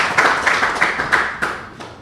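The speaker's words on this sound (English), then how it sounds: "What's with the little tiny clap, Lauren?" One person giving a small, quick clap in a studio chat, a rapid run of light close handclaps over about two seconds, with speech mixed in.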